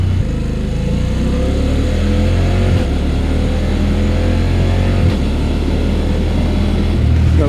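Motorcycle accelerating on a Japanese road, engine pitch climbing in steps, cut briefly by quick-shifter gear changes at a few points, close and loud with a little talk.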